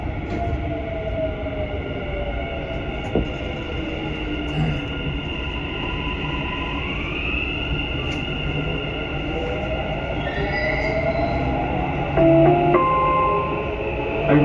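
Dubai Metro train between Mall of the Emirates and Burj Khalifa/Dubai Mall closing its doors and pulling away, a continuous loud interior rumble with rising motor whine and a few chimes and tonal beeps near the end.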